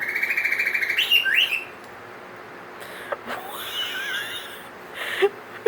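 A pet cockatiel imitates tropical birds with a rapid trilling chirp, then slurred, wheezy whistles and squeaky calls, close and fairly loud, followed by a few sharp short tweets.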